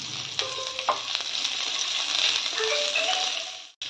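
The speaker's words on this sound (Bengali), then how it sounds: "পেঁয়াজটা এরকম ভাজা হবে, খুব বেশি লাল হবে না" Chopped onion and garlic fry in a pan with a steady, close sizzle and a few light stirring clinks, and no one speaks.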